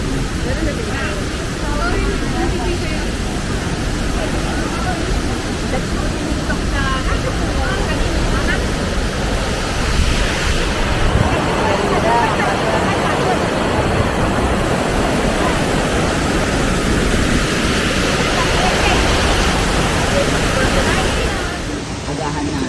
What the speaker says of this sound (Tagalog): Ayan, Taiwan Falls.